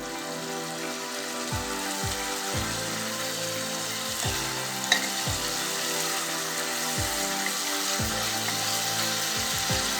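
Masala with tomatoes fries over a medium flame in a pan for an egg curry, with a steady close sizzle and crackle and rhythmic scraping stirs and mashing strokes repeating about every second.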